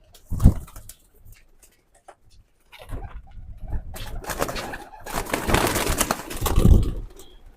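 Domestic racing pigeons coo softly nearby, then a loud flurry of wing flapping rises, with scattered rustling and no speech.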